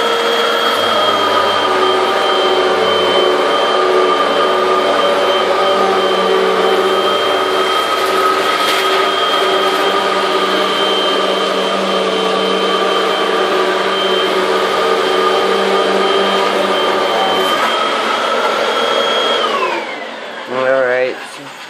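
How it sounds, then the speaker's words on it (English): Hoover Windtunnel Max upright vacuum cleaner running with its brush roll spinning, a loud steady motor whine with a constant tone, winding down near the end as it is switched off. "That's the problem with the Hoover, the brush part is going."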